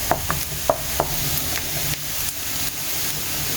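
Onions frying in a pan while being stirred, a steady close sizzle with a few sharp spatula scrapes and clicks early on, then quieter simmering with no talk.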